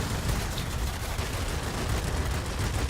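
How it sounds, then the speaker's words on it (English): Machine gun bursts from a Yak-1M fighter plane in World of Warplanes, a continuous rapid rattle of gunfire at steady, fairly loud level throughout, with no talking. "You're much better off just to do shorter burst and keep the rate of fire up."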